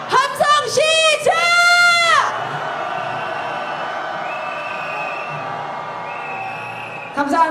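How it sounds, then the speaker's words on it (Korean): A street protest crowd at a candlelight rally in Seoul, calling for impeachment, lets out a loud sustained roar of cheering after a few sharp shouted calls, the cheer fading into a lower murmur with whistles. "함성 시작."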